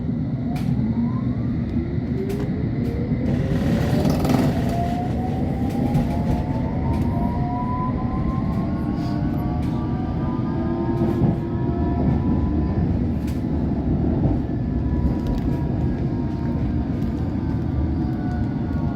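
A Metropolitan Line S8 Stock train on the London Underground gives off a loud, constant rumble from inside the carriage, with rising motor whines throughout.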